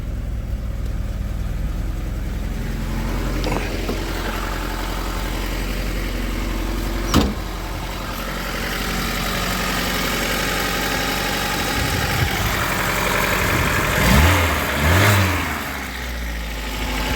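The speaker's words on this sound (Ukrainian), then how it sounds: "Мотор працює хорошо, тобто добре" A carbureted car engine with electronic ignition idles steadily with a low, continuous rumble, with a brief click partway through and a couple of small bumps in pitch near the end.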